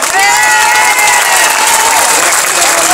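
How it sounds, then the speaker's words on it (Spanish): Loud, sustained applause from a crowd at a pensioners' demonstration in Madrid, dense clapping mixed with some cheering and a voice over the sound system. "Y un gran aplauso a los compañeros y compañeras"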